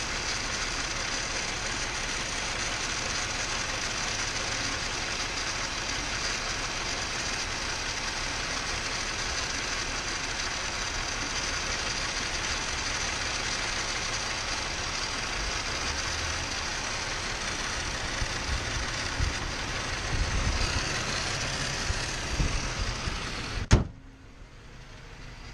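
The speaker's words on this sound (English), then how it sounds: "It's a really rough idle." A Subaru EZ30 flat-six engine with suspected head gasket trouble idles roughly, a steady broadband rumble holding close and even before cutting off abruptly near the end.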